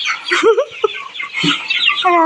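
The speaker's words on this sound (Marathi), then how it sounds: "बघा किती कोंबड्या चमक्या तोंडात न हिसकावून घ्यायला लागल्यात ते बघा" Several chickens clucking and squawking close by, busy overlapping calls with a longer drawn-out cackle at the end.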